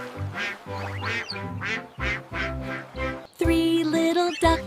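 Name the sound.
duck quacking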